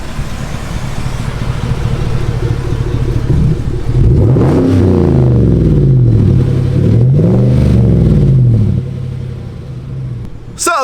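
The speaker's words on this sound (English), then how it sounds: "finally get an exhaust put on his truck, and it sounds like he has" A new aftermarket exhaust on a newer GM gas pickup truck rumbles at idle, then the engine is revved twice in long rising-and-falling sweeps before settling back to a steady idle, loud and close.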